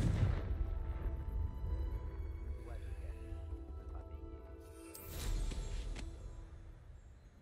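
Fire spell blasts bursting in Hogwarts Legacy, a loud booming explosion at the start and another sharp burst around five seconds, over continuous game ambience and effects.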